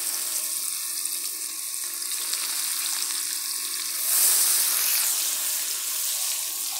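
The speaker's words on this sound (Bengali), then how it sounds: "এখন আমি এই তেলে পেঁয়াজ দিয়ে দিব" Onions frying in hot oil, a loud, dense, continuous sizzle that swells briefly partway through as they are stirred, with no talking.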